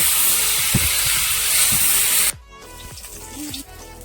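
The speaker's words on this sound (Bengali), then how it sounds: "এঁচড় আলু সুন্দর করে ফাঁকা তেলে ভেজে নেব" Pieces of jackfruit and potato deep fry in a pan of hot oil, giving a loud, continuous hiss and crackle that cuts off abruptly midway, leaving a quieter scrape of utensils.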